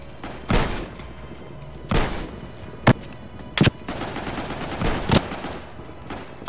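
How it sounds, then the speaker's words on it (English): Bursts of rapid gunfire and sharp blasts from the game Frontline: Karelia, coming in several separate volleys with short gaps, fairly loud and with no talking. "there are still some explosions cutting out"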